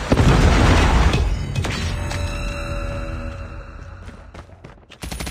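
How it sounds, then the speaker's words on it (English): A Predator missile strike explodes in Call of Duty, opening with a loud, heavy boom that rolls off into a long rumbling decay with scattered debris and mechanical clatter. "Friendly Predator missile inbound."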